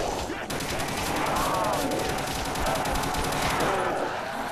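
Rapid automatic gunfire from Call of Duty: World at War custom zombies mode, a continuous close, loud rattling burst running the whole stretch.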